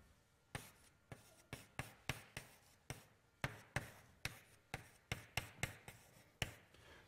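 Chalk or marker tapping and scraping on a board during a mathematics lecture, a quick irregular series of close sharp strokes with short pauses and no talk.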